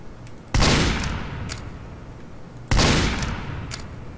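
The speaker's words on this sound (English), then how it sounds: "Listen to the reload sound." Ambassador weapon in a video game firing two loud, sharp shots about two seconds apart, each ringing out with a long decaying tail, interleaved with faint mechanical reload clicks.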